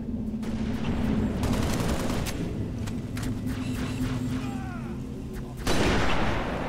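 Rapid bursts of gunfire in Halo: Reach crackle repeatedly over a steady hum, with scattered single shots and a louder burst near the end.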